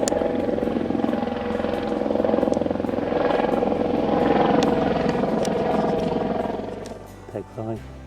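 Helicopter from a local airfield, on the old Henstridge airfield, passing over a woodland fishing lake, a loud sustained rotor roar that fades toward the end, with someone talking over it.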